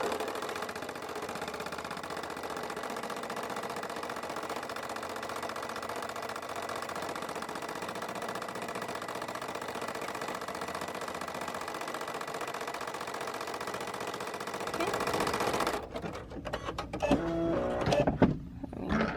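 A Brother PE-770 embroidery machine stitching to tack down appliqué fabric on a onesie, a steady loud mechanical drone for most of the clip that shifts into rapid sharp rattling bursts near the end, with no talk.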